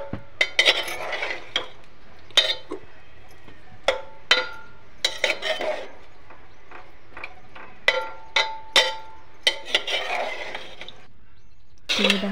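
A metal spoon stirs cauliflower and potato curry with added water in a pot, giving sharp, intermittent clinks and scrapes against the pot in an irregular rhythm, close by.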